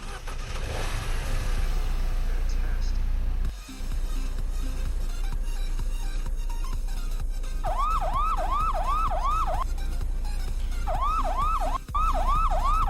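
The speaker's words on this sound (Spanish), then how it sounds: "Bueno, no sé por qué el pito funciona como una de sirena. Entonces, bueno, una sirena de policía." A truck horn in the Haulin driving game sounds as a repeating police-style wail, several rising-falling bursts in two groups over a steady engine rumble, loud and close with no talking.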